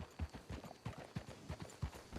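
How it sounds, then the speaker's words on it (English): Horses in the video game Red Dead Redemption 2 clip-clop in a steady, even rhythm of hoofbeats at moderate distance, alone and without talk. "Let's hitch the horses up ahead."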